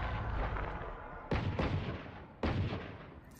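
Gunfire from the tactical shooter Valorant rings out as three sharp, loud shots, roughly a second apart, each followed by a dense ringing tail, with no talk over it.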